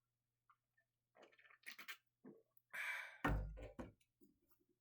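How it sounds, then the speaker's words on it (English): A man takes a sip of water close to the microphone in a quiet room, a few soft slurps and a swallow followed by an audible exhale or sigh. "I gotta take a sip of water"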